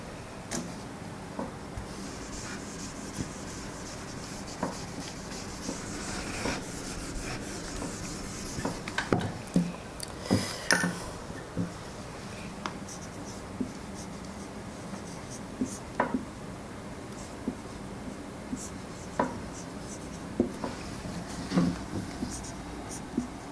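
Chalk or marker scratching a sentence onto a board in a classroom lesson, irregular short strokes and taps scattered across the clip, fairly faint, with a teacher talking throughout.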